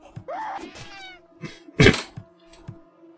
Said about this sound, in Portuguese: Eu não vou matar o gatinho, né?